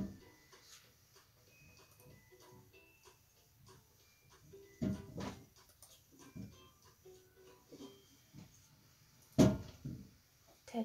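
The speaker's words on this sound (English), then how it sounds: "it's my dog. He's chewing on a bone and trying to get comfortable" A dog chews on a bone in the background, soft gnawing and scraping with a few louder knocks and thumps, faint and irregular over a quiet room hum.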